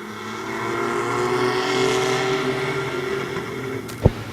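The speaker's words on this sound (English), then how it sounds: "Green coming off of 4 laps, fast dash for the mini trucks." Mini trucks racing at Midvale Speedway, a steady engine drone from the pack circling the track at mid distance, holding level throughout, with a sharp brief bang or knock near the end.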